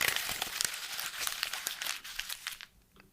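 Paper crumpled up by hand, a close crackling flurry of dense crinkles and small snaps that thins out and fades toward the end.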